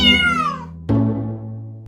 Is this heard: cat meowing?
yes